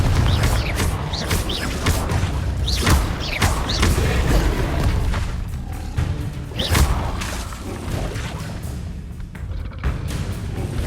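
Confringo spell blasts go off in the Hogwarts Legacy video game as a dense run of booming impacts, crashes and whooshes. The bursts repeat loudly and steadily throughout, with no quiet gaps between them.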